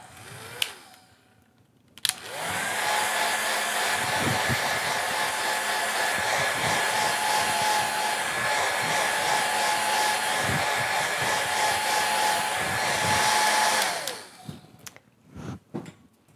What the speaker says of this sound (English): I'm going to grab my blow dryer and dry that first wash